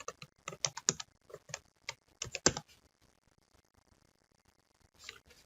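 Rapid bursts of keystrokes clatter on a computer keyboard during timesheet data entry, coming in uneven runs for about two and a half seconds, then trailing into a few faint taps and near silence, with a brief soft rustle at the end.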